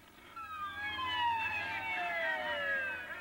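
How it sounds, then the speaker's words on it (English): An ambulance siren wails in a long falling tone at moderate distance during a 1981 El Salvador firefight, running steadily for several seconds over a low rumble of background noise. "An ambulance was called into the middle of the firefight."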